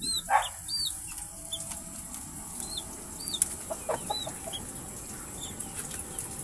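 Month-old chicks and chickens in a pen, one of them sick with limberneck, giving a string of soft high peeps spread across several seconds along with a brief flutter of wings, heard at a moderate distance over steady background noise.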